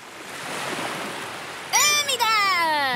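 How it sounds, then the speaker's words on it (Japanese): Ocean waves surge and wash onto a sunny beach in a steady broadband rush, with a voice speaking briefly over the surf near the end. "海だ"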